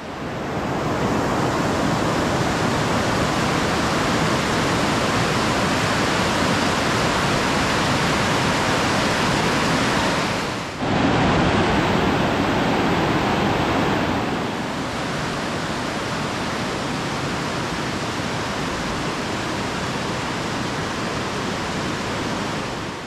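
Roaring river rapids churn through Helvetesfallet gorge in Sweden, a loud, steady broadband rush of white water that fills the whole stretch without a break, with no voices over it.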